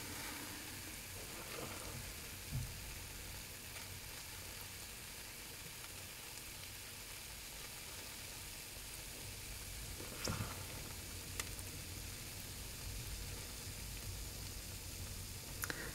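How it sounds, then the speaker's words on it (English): A steady, soft fizzing hiss continues throughout from an acid-base reaction of gym chalk, a carbonate, with a few faint clicks and no voices. "Fizzing."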